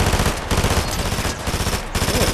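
Rapid automatic weapon fire in the Fortnite Zero Build video game, loud dense bursts of gunshots in quick succession with brief gaps, close and continuous.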